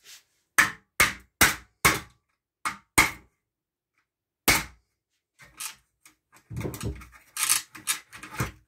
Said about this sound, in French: il faut prendre un petit tournevis et taper